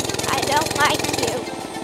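A small mini bike engine with a muffler runs close by, a rapid steady putter with a slight rise in pitch, while a voice talks over it.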